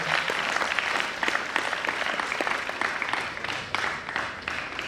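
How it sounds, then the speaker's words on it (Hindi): Audience applause at a state-level arts festival performance, a steady bed of many hands clapping at moderate volume with a few sharper claps standing out, continuing evenly from start to finish. "चलिए तालियों के रूप में बजा दीजिएगा, अपने भावों को व्यक्त कर दीजिएगा।"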